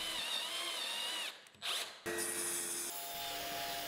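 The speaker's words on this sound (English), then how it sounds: "I drilled the rest of the holes on the jig's base and placed the necessary threaded inserts." A power drill boring holes into the base of a sharpening jig for saw blades and router bits: a steady whining drill run, a short break with a rough grinding burst, then a second motor whine at a lower pitch, close and loud.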